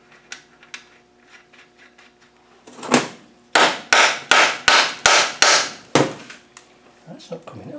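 Hammer blows on a seized part in a Td5 Land Rover LT230 transfer box, starting with a few light taps and then building to a fast run of about seven loud, sharp metallic strikes close by.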